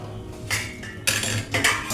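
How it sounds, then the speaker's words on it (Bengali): Metal lid set onto a wok during home cooking, a few short clanks and scrapes of cookware in quick succession, close and fairly sharp against a quiet kitchen background. "কড়াইটা চাপা দিয়ে দিলাম।"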